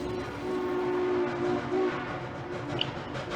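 Norfolk Southern freight train rolling past at steady volume, a continuous rumble of railcars with a sustained tonal horn-like hum and faint wheel clatter throughout, no voices.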